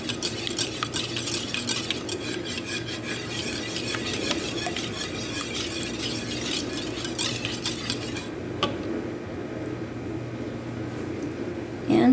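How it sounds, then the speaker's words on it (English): Vanilla, sugar and eggs mixed together in a bowl for a French toast bake, continuous close scraping and clinking of a utensil against the bowl, softening near the end. "I'm going to mix up my vanilla in there with my sugar and eggs."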